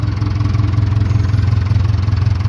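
A non-turbo Cummins 4-cylinder diesel in a Case 580K backhoe, an engine that smokes badly, idles close and loud with a steady, slightly pulsing low throb.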